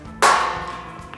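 A single sharp mallet strike seats a steel beam into a Stratco heavy duty workbench frame, a bright metallic clang with a ringing decay, close and loud, then a faint tap near the end.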